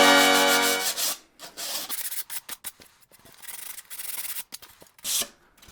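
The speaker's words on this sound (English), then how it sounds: "I'm just going to run like a 120 grit sandpaper over the edges here" Wood edges are hand-sanded with 120 grit sandpaper in short, close, scratchy strokes, several rapid back-and-forth rubs in bursts with brief pauses between, after a brief tonal sound at the start.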